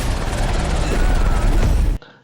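A helicopter in a film, heard as a loud continuous broadband roar and rotor rumble that holds steady, then drops away sharply into quiet at the end.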